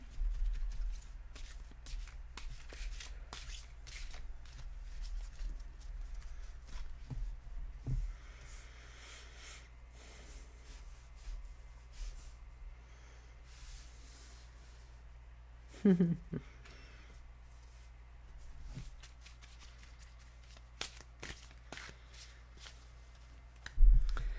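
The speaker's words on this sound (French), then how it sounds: "Je vais vous tirer 3 cartes comme ça." Tarot cards being shuffled and drawn by hand, with soft repeated riffling and slipping card sounds, a few sharper flicks as cards are pulled, under a quiet background and occasional voice.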